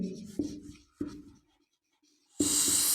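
A marker squeaks and scratches across a whiteboard during a Hindi-medium English grammar lesson, with short stroke bursts followed by a pause and then a longer, louder stretch of steady writing.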